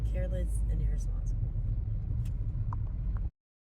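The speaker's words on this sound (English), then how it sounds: "if you hear and see cars passing or whatever the case may be, that is why" Cars and road traffic rumble past, heard from the roadside on the way to work, a steady low engine drone with brief swells as vehicles go by, then it cuts off abruptly.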